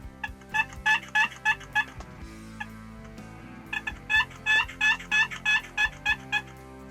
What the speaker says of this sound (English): What a group of birds that is.